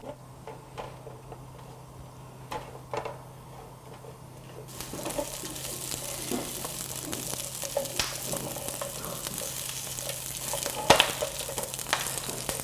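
Onion, bell pepper and paprika stir-fry in hot oil in a pan for mushroom sweet-and-sour. A quiet start with light clinks gives way to a steady, close sizzle that grows louder and continues to the end.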